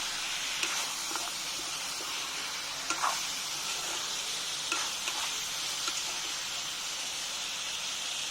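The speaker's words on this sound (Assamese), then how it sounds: "কেৰাহীতে ভাজি থাকিম যেতিয়া, এইটো এক প্ৰকাৰৰ ৰোষ্টেই হয়।" Chicken pieces roasting Kerala style in a kadai with no added water give a steady, soft sizzle and hiss, broken by occasional light clicks and scrapes of stirring, with no talk.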